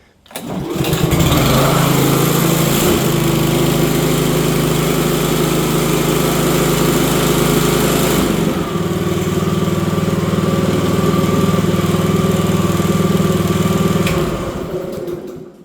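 A Honda HRM215 walk-behind lawn mower engine starts and runs steadily at close range for about fourteen seconds, with a brief dip in the middle before returning to a loud, even drone.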